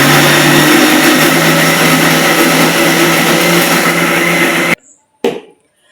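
A kitchen mixer grinds cooled masala into a paste, whirring loudly and continuously at close range before cutting off abruptly, followed by a brief clatter and a short second burst.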